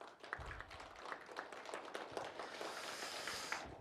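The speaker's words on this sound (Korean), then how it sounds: "박수 한번 보내주시면 감사하겠습니다." An audience at a city council policy debate gives a round of applause, a dense, faint wash of many hands clapping at once, steady throughout with no clear separate claps.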